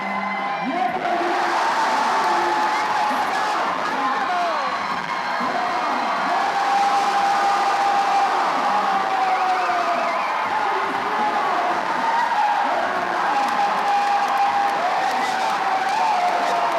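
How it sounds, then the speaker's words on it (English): Loud crowd cheering and shouting at a climbing competition finals, a dense, sustained roar of many voices that fills the whole stretch without letting up. "I can't even hear myself right now because the crowd was so loud"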